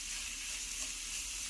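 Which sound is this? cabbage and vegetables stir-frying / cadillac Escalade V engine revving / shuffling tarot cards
cabbage and vegetables stir-frying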